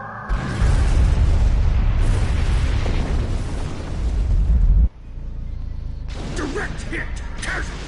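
A ship takes a direct weapons hit and explodes in a huge, roaring blast that rumbles steadily for about five seconds, then cuts to a lower rumble with whining, crackling noise.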